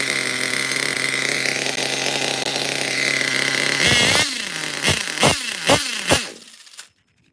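A Picco 7 port nitro engine in an OFNA CRT.5 1/12 scale truggy screams at a high, steady pitch, then sputters through several sharp revving blips before cutting off into silence.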